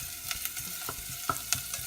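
Sage sizzles and fries in a pan for gravy, a steady close crackle with a few sharper pops and stirring scrapes.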